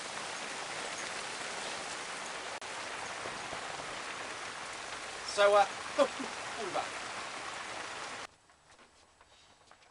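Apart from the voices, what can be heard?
hail falling outside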